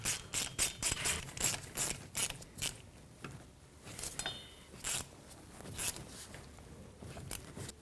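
Ratchet tightening the driveshaft bolts on a Ford Ranger, a run of quick, faint, crisp clicking bursts in uneven spurts up close.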